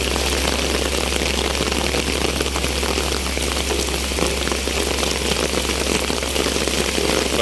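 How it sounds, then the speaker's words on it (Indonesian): Heavy rain pours onto a road under repair at Batu Jomba, a loud dense hiss of drops over a steady low engine drone that runs continuously without letting up. "Oke bosku, saat ini hujan deras ya di Batu Jombah."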